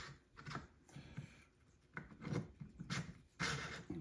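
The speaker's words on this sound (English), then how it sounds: "So I'm going to run the rod through them while it's loose." A connecting rod from an Odds'n Ends hit-and-miss engine slides through loose bearings, giving close, intermittent scraping and rubbing bursts separated by short pauses.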